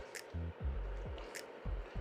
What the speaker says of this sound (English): I'm gonna be, mixing in the meat